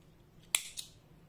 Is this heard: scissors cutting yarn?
yes